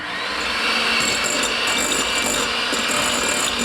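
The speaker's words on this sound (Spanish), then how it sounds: "Ahora vamos a batir mantequilla sin sal a temperatura ambiente." An electric mixer beats room-temperature unsalted butter for cookie dough, a loud, continuous whirring drone with faint scraping texture, steady throughout and with no talking.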